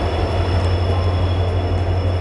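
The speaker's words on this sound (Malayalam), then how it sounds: "നിലമ്പൂർ സ്പെഷ്യൽ ട്രെയിൻ എത്തിയിട്ടുണ്ട്" At a station, the Nilambur special train gives off a loud, steady, close rumble of idling rail machinery with a deep engine drone and a faint high whine, and no one speaks.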